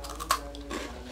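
A crunchy baby biscuit being bitten and chewed close up, with a crisp snap followed by softer crunching and mouth sounds, without talking.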